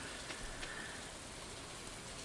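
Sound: rain in the video game Stardew Valley

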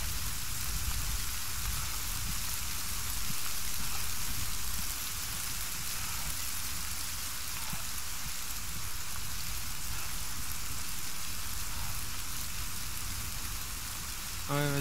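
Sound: rain in a video game

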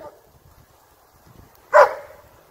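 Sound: excited dog barking

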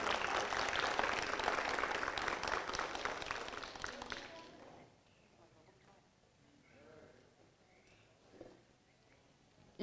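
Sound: audience applause for graduating class

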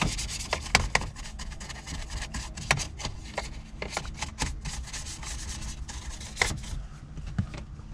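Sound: dry brushing car interior

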